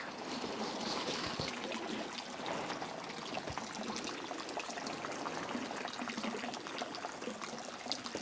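Water from a holy spring flows and trickles steadily at a pilgrimage site in Ixhuacán de los Reyes, a continuous close rushing wash with no talk over it.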